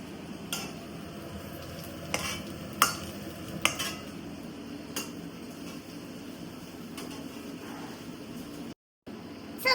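Chopped capsicum frying in a pan with ginger-garlic paste is stirred with a spatula: scattered sharp scrapes and taps over a soft, steady sizzle, close and fairly quiet.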